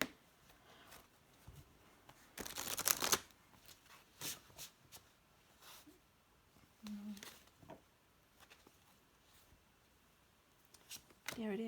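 Tarot cards being shuffled and drawn, with one loud riffle burst and scattered soft snaps and slides of cards, close and quiet between them, and a voice talking faintly at times.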